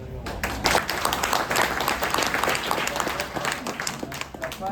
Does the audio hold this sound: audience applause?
yes